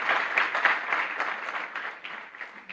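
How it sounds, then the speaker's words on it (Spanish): Congregation applauding inside a chapel during Mass, continuous dense clapping that slowly thins toward the end, no talk over it. "Fuerte aplauso para todos ustedes."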